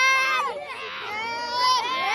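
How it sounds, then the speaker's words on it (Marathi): A busy children's market crowd, with a dense mix of excited children's voices, high-pitched shouts and crying carrying over a continuous murmur of chatter. "इकडं गर्दी जास्त आहे"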